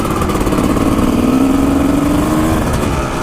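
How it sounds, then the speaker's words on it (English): A Honda VFR V4 motorcycle engine hums steadily up close, its pitch climbing slightly in a short rev before easing back. "how much I love the sound of my VFR. That V4 sound."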